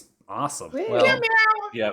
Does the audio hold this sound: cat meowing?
yes